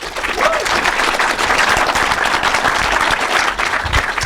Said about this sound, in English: Keep clapping until they get to their seats.